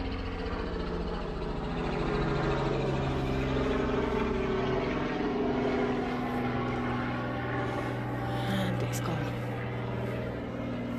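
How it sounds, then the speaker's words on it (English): A police helicopter flying overhead near an abandoned manor, its rotor and engine a continuous low droning hum, fairly distant and steady, heard under quiet movement outdoors. "Is that the police chopper out?"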